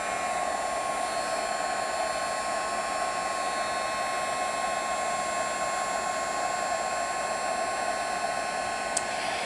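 Heat gun blowing hot air to melt embossing powder, a loud, continuous whooshing hum that holds steady for the whole stretch with no breaks, heard alone without speech.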